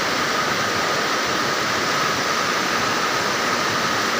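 Strong floodwater from the mountains rushes through a creek after a night of rain, a loud, steady roar that holds unbroken throughout with no voices.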